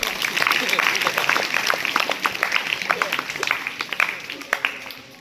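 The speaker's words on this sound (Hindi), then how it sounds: "ताली बजाओ" Schoolchildren at a senior secondary school assembly clap together in a burst of applause that thins into scattered claps and fades over several seconds, with a voice faintly present.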